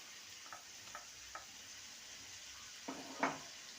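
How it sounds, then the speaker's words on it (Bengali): Onion and tomato paste frying in a pan, a faint steady sizzle with a few soft stirring scrapes and clinks against the pan, heard close and without talk. "ভালো করে কষিয়ে নেবো"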